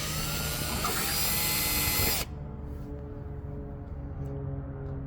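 A power drill whines steadily at close range while boring a hole through the trunk lid of a 2019 Nissan Versa, then cuts off abruptly, leaving a lower mechanical hum.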